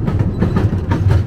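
A museum steam train rolls along its rails with a low rumble and rhythmic clacking of wheels over track joints, steady and close.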